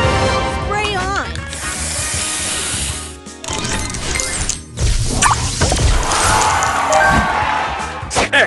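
A spray booster firing in the Match Masters mobile puzzle game: loud whooshing spray bursts and crashing effects layered over bright game music and chimes, with a short pause midway before another rush of effects.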